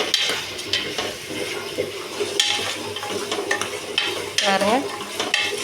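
Vegetables for a vegetable biryani are stirred in a hot pan, with close, repeated spoon scrapes and clatter over a continuous sizzle and a brief spoken word.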